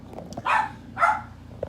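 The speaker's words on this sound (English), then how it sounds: "There, on that note, Lulu barks right on cue" A dog barks twice in quick succession, two short clear barks about half a second apart, fairly close, with a quiet background and no talk.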